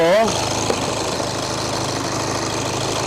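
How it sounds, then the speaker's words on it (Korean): A Volkswagen Passat with an alternator charging fault cranks and catches near the start, then settles into a loud, steady idle that runs close by for the rest of the moment. "시동을 걸고"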